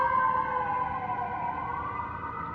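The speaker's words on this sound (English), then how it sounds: "ambulance passing by" An ambulance siren wails past along Ocean Avenue, a loud wavering tone that bends downward as it goes by, heard alone without talk for a couple of seconds.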